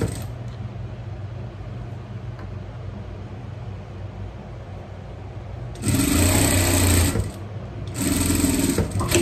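Sewing machine stitching trim on a pet bikini, starting after a quiet stretch of handling noise with two loud, steady bursts of running stitches, the second following a brief pause.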